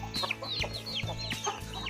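Chickens on a Thai farm during hot weather cluck in quick, repeated bursts, close and steady over a low hum.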